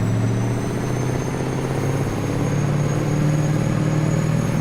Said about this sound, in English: I just heard a loud truck noise myself.